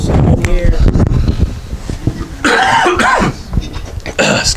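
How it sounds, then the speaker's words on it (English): A person coughs close to the mic, a few rough bursts near the end after a stretch of muffled rustling and breath, with some wind-like noise, at a holiday sewing fair demonstration. "I'm about to cough."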